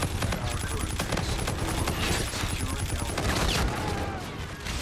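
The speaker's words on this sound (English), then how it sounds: "I was literally shooting him, but my bullets weren't hitting him" Dense, continuous gunfire from Call of Duty: Infinite Warfare on the Noir map, loud rapid automatic bursts layered with game noise, with a voice talking over it.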